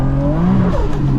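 Engine of a 700bhp Nissan R33 GTR Skyline revving hard in first gear, a loud, close, rising drone with a brief wavering note, no voices over it.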